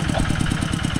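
A farm tractor engine runs nearby with a rapid, even chugging pulse, loud and steady and without voices.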